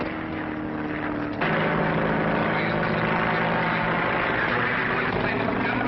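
A droning aircraft engine hums steadily, growing louder and fuller partway through and holding a constant rough roar.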